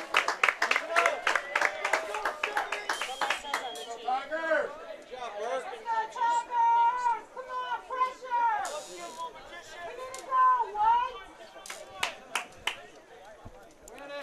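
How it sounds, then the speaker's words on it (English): Crowd at a Sewanee Tigers college soccer match chattering and calling out in encouragement, with scattered claps and shouts rising and falling throughout, fairly close and continuous. "Urging from the crowd here at Sewanee for the Tigers to continue to attack and try to get that goal"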